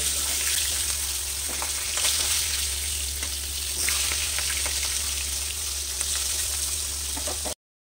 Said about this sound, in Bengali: এখন আমি মাছের মাথাগুলোকে ভেজে নেব।